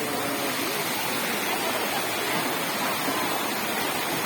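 Floodwater runs and rushes past during heavy rain, making a loud, continuous, even roar like a stream or small waterfall close by, with no voices.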